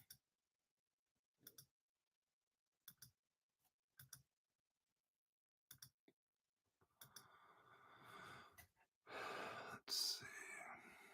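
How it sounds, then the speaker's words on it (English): Sharp computer mouse clicks, singly and in pairs, spaced through the first seven seconds, followed by louder broadband rustling and handling noise toward the end. "let me keep clicking out of this here."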